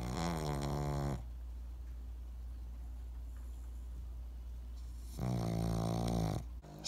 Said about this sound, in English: Sometimes she wakes herself up just by snoring so loudly.